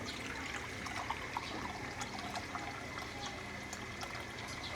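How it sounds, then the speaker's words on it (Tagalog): Water pours steadily into a pot, a continuous splashing trickle with faint clinks, close by and with no talking. "Lagyan po natin ng tubig."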